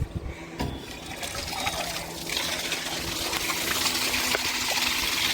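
Water trickles and rushes steadily as a rooftop water tank drains for cleaning, growing a little louder, with a brief clunk near the start.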